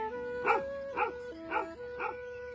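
Dogs bark at an animal shelter for old animals, four evenly spaced barks about half a second apart, moderately close, over a steady tonal background hum.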